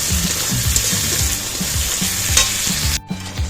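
Chicken fries in a clay-coated pot on a gas stove, giving a steady close sizzle with rhythmic stirring scrapes throughout and a brief break near the end.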